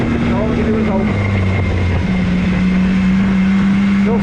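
Overland vehicle engine running rough with a suspected fuel pump problem, a loud continuous drone whose pitch steps and wavers unevenly, heard close with wind and voices mixed in.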